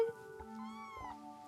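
A small kitten gives a couple of soft, high meows close by in a quiet room.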